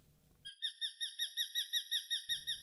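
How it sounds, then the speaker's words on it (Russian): A female common kestrel calls near a rocky cliff-niche nest on Lake Baikal, giving a clear, rapid series of about ten shrill, evenly spaced notes, loud and close, with no talking. "Это самка пустельги обыкновенной."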